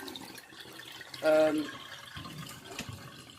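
Tap water runs briefly into a sink while rice is rinsed, a short burst of splashing flow amid faint kitchen clatter and drips, fairly quiet and close.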